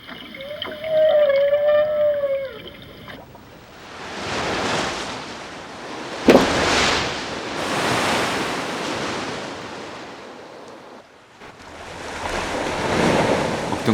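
Humpback whale song rises in clear tonal moans over open ocean, then gives way to loud, rolling surf and wind-blown waves that surge and recede for the rest of the stretch.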